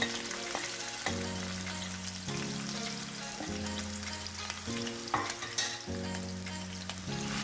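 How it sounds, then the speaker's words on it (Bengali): Onion and garlic paste sizzles in hot oil over a medium flame while a spoon stirs it in steady repeated strokes, close and continuous with no voices, for a shrimp shutki lara dish. "নেড়েচেড়ে কিছুটা ভেজে নিব পেঁয়াজ রসুনটা।"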